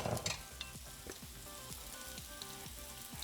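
Garlic frying in olive oil in a pan for shrimp scampi, a steady crackling sizzle throughout, with a louder burst at the start and faint rhythmic clicks underneath.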